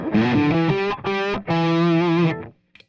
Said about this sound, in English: mainly with the humbucker, you hear those mids jump out, and your solo tones are thicker